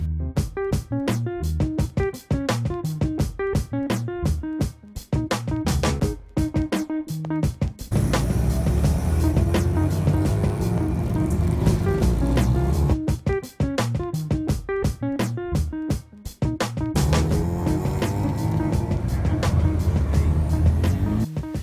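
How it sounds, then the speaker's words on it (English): A 1977 Mazda 323 bug eye with a naturally aspirated extend-port 12A rotary engine cruises around Eastern Creek, its loud, buzzy exhaust droning steadily with rhythmic pulsing and shifts in pitch throughout. "go for a cruise around Eastern Creek in Nat's 1977 323 bug eye"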